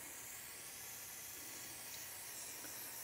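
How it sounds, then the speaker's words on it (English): Brake cleaner sprays in a steady, continuous hiss onto a rear brake caliper of a 2011-2019 Ford Explorer, holding unbroken and close for about three seconds with no talking. "Take some brake clean and I'm going to clean that area"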